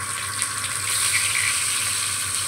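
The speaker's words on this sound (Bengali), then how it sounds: "কাঁকরোলগুলো এক করে ভেজে নেবো" Stuffed spiny gourds (kakrol) fry in hot oil in a pan, giving a steady, close hiss and crackle of sizzling that runs throughout, with no voices.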